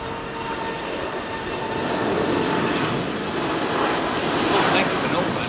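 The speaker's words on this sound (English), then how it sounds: "Full power departure on this Dreamliner by the sounds of it." A Boeing 787 Dreamliner departs Heathrow at full power, its jet engine roar a loud, broad, sustained rumble swelling slightly as it passes, with people talking over it.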